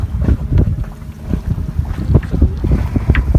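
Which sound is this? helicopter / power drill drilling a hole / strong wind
strong wind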